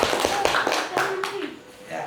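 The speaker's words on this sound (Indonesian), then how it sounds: "Tepuk tangan dong buat" Audience at an Indonesian family gathering in Banten claps in a brief burst of scattered hand claps, mixed with people talking over it.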